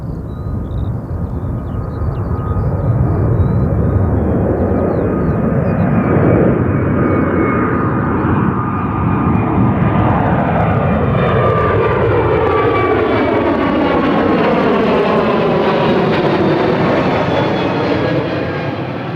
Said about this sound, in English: Qantas 10 heading directly back down to Perth.